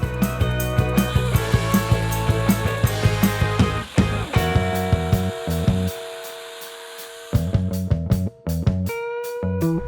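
Hand saw stroking back and forth through wood, a steady rhythm of loud rasping push and pull strokes that pauses briefly before resuming, close by with no talk.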